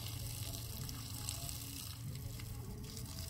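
Steady broadband rush of water running from a tap, continuous and fairly quiet with no voices.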